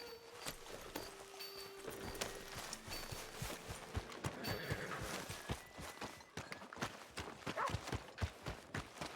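Horse hooves clip-clop steadily at a walking pace in Red Dead Redemption 2, close and fairly loud, with a faint low tone at the start and some quiet background ambience.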